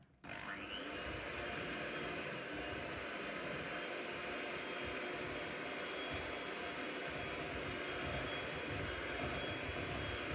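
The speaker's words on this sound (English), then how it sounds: "Mix them together until they're nice and light and fluffy." Electric hand mixer whirring steadily as it beats three eggs with white and light brown sugar for a pumpkin roll, a loud continuous motor drone with a rattling edge, running alone.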